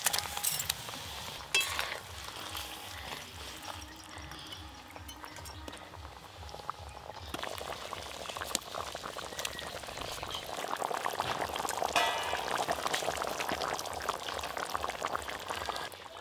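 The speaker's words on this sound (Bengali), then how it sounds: "ঝোল তো বেশ ভালো করেই ফুটে গেল" Fish curry broth boiling hard in a pot, a continuous bubbling rumble with occasional clinks and a pouring splash early on, fairly quiet and without voices.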